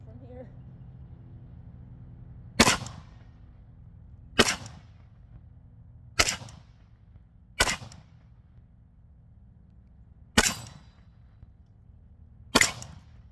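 Outdoor target shooting with firearms: six sharp, separate gunshots crack out at spaced intervals, each with a short decaying tail, over a quiet background.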